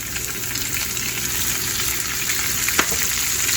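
Collard greens fry in hot oil in a skillet over high heat with a steady, loud sizzle and a brief stirring clatter near the end; no one speaks.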